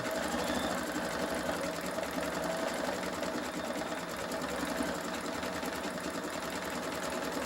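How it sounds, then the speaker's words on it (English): An embroidery machine stitches a wine glass coaster with a fast, even, continuous mechanical whir and rapid needle rattle, close and steady throughout with no talking. "We will go ahead and finish that embroidery and then go on to the next step."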